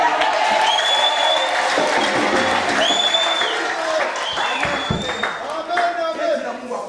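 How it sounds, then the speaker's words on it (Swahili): A church congregation claps and cheers together in a dense, sustained burst of applause, with voices calling out over the clapping. "Ukiwa unapenda Mungu simama shangilia kwa makofi"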